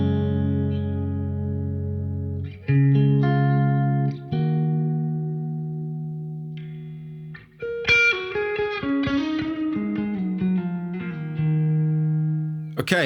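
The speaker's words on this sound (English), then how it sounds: "now we're onto the big hall. You can really hear, again, like that, the reflections there. Like it's a big room" Guitar played through a UAFX pedal on a big hall reverb setting: sustained chords and single notes ring out with long, spacious reflections and tails, a few picked phrases swelling and decaying cleanly with no talking.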